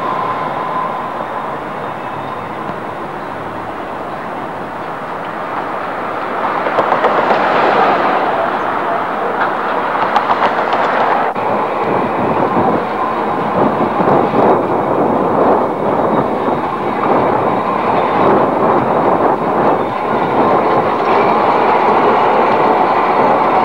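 Toronto TTC PCC streetcar, one of two painted in 1980s TTC colors, running on rails, a low rolling rumble that swells louder midway, with rattling wheel noise and faint squeal carrying on steadily.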